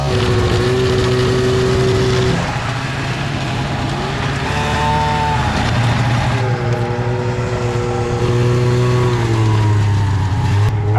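A cheap snowmobile engine drones loudly and without pause, its pitch sagging and wavering as it bogs down, then climbing back, over about eleven seconds.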